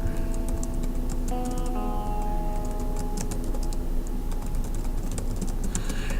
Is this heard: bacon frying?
no